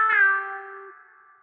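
A single cartoonish cat meow from the DJ Meow character in an Incredibox mod, a bright tonal cry that rings out and fades slowly over about a second, alone and fairly loud.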